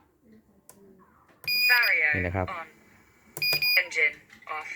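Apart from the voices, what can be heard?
RC jet plane electronics beeping when armed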